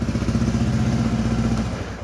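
A motorcycle engine running during bike chain maintenance, a close, steady idle with a low, even thumping pulse that eases slightly toward the end.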